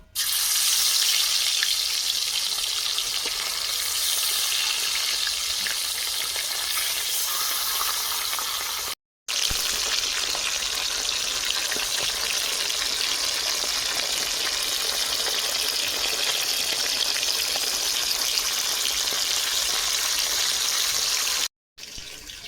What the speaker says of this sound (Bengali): মাছ ভাজবো কড়াতে সর্ষের তেল দিয়ে দিচ্ছি